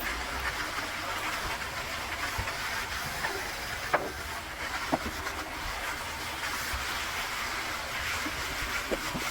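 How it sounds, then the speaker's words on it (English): A steady, fairly quiet hiss from a steam cleaner on walls and floors runs throughout, with a few faint clicks and taps on top. "it's time to bring out the steam cleaner"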